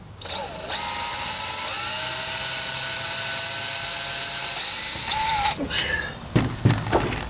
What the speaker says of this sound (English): Whenever you got your drill bit speed proper and you got a good drill bit that's cutting like it should